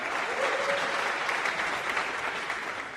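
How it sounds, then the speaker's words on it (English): An audience claps steadily at a church worship service, a dense, loud burst of applause that keeps going evenly for the whole stretch, and a faint voice shows briefly under it. "You can clap for it."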